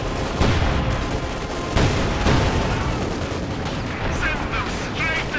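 Gunfire and machine-gun bursts from a Panther tank in a Company of Heroes 2 two-versus-two match, loud dense rattling and booms layered over continuous battle noise.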